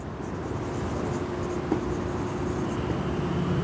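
Steady scratching of writing on a board during a maths lesson, continuous and close, with a soft background hum and no talk.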